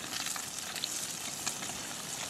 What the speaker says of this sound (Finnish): Olemme juuri saaneet harjukset pannulle tirisemään, niin kuin